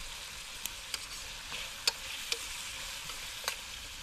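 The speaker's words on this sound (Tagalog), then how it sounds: "palambutin lang natin yung kamatis hanggang sa madurog siya" Tomatoes frying and being stirred in a pan until soft: a steady close sizzle with a few sharp clicks of a utensil against the pan, no talking.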